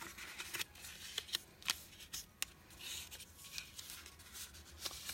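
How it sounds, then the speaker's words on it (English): A bone folder scoring lines into paper for a small bunny box, heard as quiet, close scraping and rubbing strokes with occasional sharp swipes, faint and without talk. "Now go ahead and score those lines with your bone folder."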